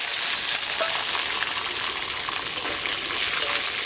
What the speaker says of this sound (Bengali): তেল গরম হয়ে গেছে, বাদামগুলো দিয়ে দিলাম।